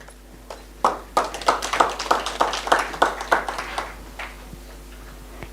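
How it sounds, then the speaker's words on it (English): An audience at a farmers' annual general meeting claps in a steady burst of overlapping hand claps that swells, holds for several seconds, then thins out to scattered claps. "Let's clap for him again."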